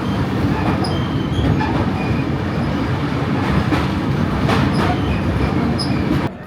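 Train running from Puri to Howrah, heard from on board as a loud, constant rumble with wheel clatter and occasional squeals throughout.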